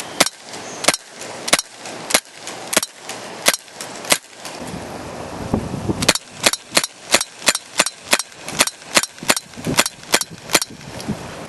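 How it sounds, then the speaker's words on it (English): A Tactical Force CO2 blowback airsoft pistol fires sharp, close cracks, first as spaced single shots and then as a quicker, regular string of about a dozen rounds. "So here we go, initial shooting test."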